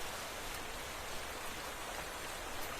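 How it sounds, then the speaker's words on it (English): Rain falls steadily in the video game Minecraft, a soft, even broadband hiss heard alone at low volume without any speech. "I wish it wasn't raining."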